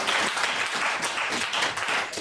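A church congregation at an evangelical service applauds, a dense and continuous wash of many hands clapping at fairly close range that holds steady throughout.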